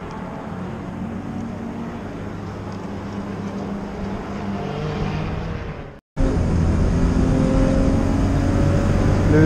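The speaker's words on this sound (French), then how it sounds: "Et voilà une Renault 5 Alpine Turbo, préparée telle que les coupes Renault Elf de la fin des années 70, début des années 80." A Renault 5 Alpine Turbo prepared as a late-1970s Renault Elf cup race car, its engine droning loudly and steadily at Hockenheim, cutting out briefly before resuming at the same strong level.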